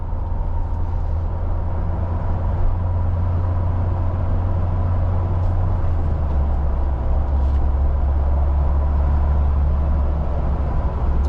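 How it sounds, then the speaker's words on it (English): Steady wind and road roar fill the cabin of a 2021 Ford Bronco Badlands with a 7-speed manual while driving, a constant loud rush with a low engine drone underneath and no talk. "A lot of wind noise in here."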